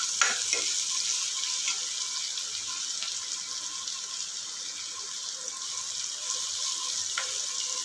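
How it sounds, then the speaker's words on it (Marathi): Chopped onion and grated ginger sautéing in a pan for moong dal varan, an even close sizzle with occasional stirring scrapes, no one speaking. "आता हे आपण चांगलं असं परतून देऊया. कांदा हा आपला लालसर झाला पाहिजे चांगला."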